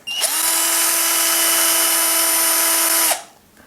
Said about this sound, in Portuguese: Onde aqui você pode usar aqui a furadeira